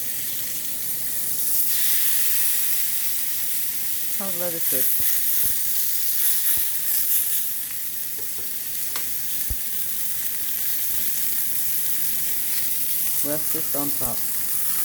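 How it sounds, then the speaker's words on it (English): Steak sizzles and fries steadily in a hot pan, a continuous close crackling hiss with occasional clinks of utensils, while a person talks briefly over it. "Transfer the steak into here. You hear it sizzling?"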